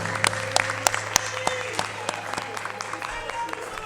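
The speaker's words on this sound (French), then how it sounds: "je vous demande d'abord d'applaudir très très fort pour les 6 candidats de ce soir" At a 2019 young musical talent contest show in Gabon, the audience applauds the six contestants with scattered sharp claps over a steady low hum, and voices can be heard in the crowd.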